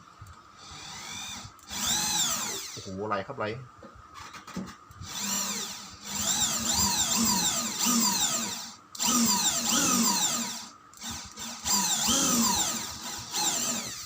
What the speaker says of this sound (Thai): ผมจะเจาะเอียงเข้าไปหน่อยนะครับ